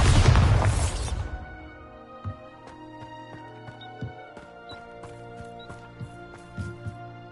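A spell cast in the Hogwarts Legacy video game bursts with a loud, broad explosive boom at the start, then decays into a lingering ringing tail with a few soft later thumps.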